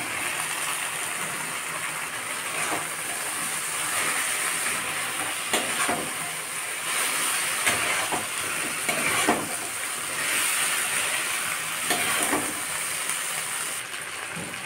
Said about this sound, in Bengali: এবার আমি সজনা ডাঁটা, আলু আর বেগুনটাকে ঢেলে ভালো করে কষে নেব